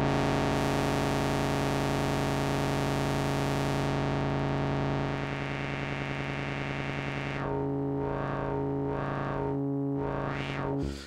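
A synthesizer filter in Softube Modular, modulated at audio rate by a square wave, gives a dense buzzing drone that shifts tone, then turns into a rhythmic wobbling yo-yo sweep.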